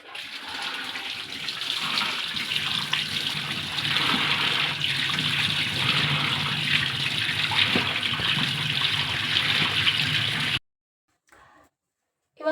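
Tap water gushes steadily while a guava is rinsed, a close continuous splashing flow for about ten seconds that then cuts off abruptly into near silence.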